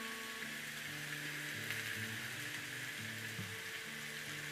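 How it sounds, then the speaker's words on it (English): Onions, bacon and pancetta browning in a cast iron pan give a steady, hissing sizzle throughout, with faint low tones running underneath. "So this is just browning up, the bacon's like getting soft, and the pancetta."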